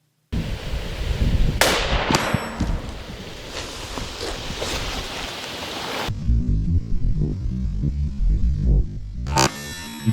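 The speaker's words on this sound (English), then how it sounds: "He's going to shoot at a gel head which simulates flesh and bone." A gunshot fired at a ballistic gel head that simulates flesh and bone: a sudden loud, sharp blast followed by several seconds of harsh, noisy rumble and clatter that then drops to a quieter rattling tail.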